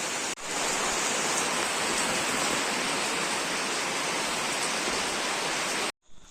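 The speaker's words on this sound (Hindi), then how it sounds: "इस तरीके से बारिश हो रहा है" Heavy rain pours steadily along the Teesta river route near Latpanchar, a dense, loud hiss that holds evenly for several seconds before cutting off abruptly.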